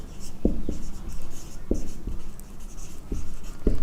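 Close-up scratching of a pen on paper while math is written out, a continuous dry rustle punctuated by several crisp taps as strokes begin, heard alone without voices.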